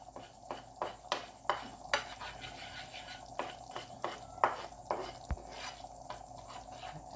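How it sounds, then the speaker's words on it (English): A spoon stirs degi mirch spice into dal in a pan, giving a steady series of light metallic clinks and scrapes at an uneven rhythm, fairly quiet and close. "We're gonna give it a good mix without burning the degi mirch."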